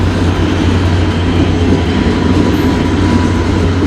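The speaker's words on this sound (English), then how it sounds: "as a befitting shot, Rail Runner trains" A Rail Runner commuter train passes through the Santa Fe railyard district, giving a loud, continuous rumble of wheels and cars on track with faint clicking. No voices are heard.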